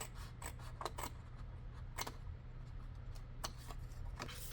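Paper strip being cut off, crisp snips and rasping slices in an irregular series of short, quiet strokes close by.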